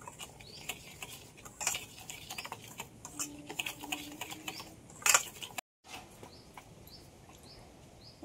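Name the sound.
mixing jalebi batter ingredients in a bowl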